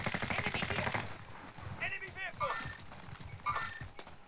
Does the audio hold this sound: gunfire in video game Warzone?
yes